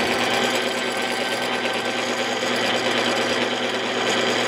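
A small lathe mill drill spins a brake rotor disc on its slowest setting, giving a steady, loud mechanical whir with a fast rhythmic chatter, close and continuous without talk.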